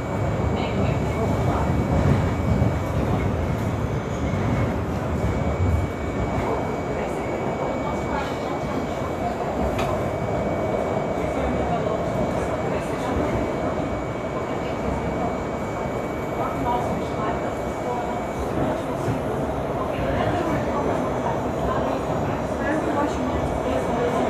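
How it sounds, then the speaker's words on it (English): Steady rumbling ride aboard a Miami Metrorail Orange Line train bound for the airport, with continuous wheel and track noise filling the whole stretch and a voice talking over it. "Up with the orange train that goes to the airport"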